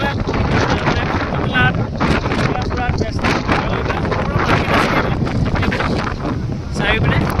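Strong wind by the sea at Dhanushkodi near Rameswaram roars steadily into the microphone, a loud continuous buffeting with surf beneath and faint voices in the background.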